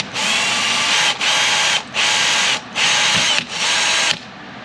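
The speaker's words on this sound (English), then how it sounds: "we're just gonna drill our hole using the same bit" Power drill boring a hole with the same bit while finishing trim on an overland rig, five loud bursts of high whine, each about a second long, separated by brief pauses.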